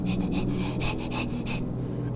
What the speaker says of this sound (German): Ich höre sie die ganze Zeit schnaufen, Leute.